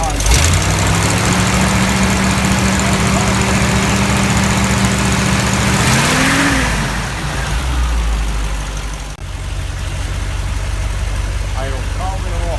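A supercharged 1937 Cord 812 Phaeton engine idles steadily and a little high, a loud, even hum with a brief dip in pitch partway through as the revs shift. A voice is present under the engine.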